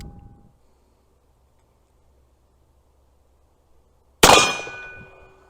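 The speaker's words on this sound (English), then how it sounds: "What happened there when it just went click, even though it was loaded, is one of my percussion caps, even though I seated them, blew off in recoil" A cap and ball revolver's hammer falls with one sharp, loud metallic click and a brief ringing tail after a near-silent stretch, because a percussion cap blew off in recoil.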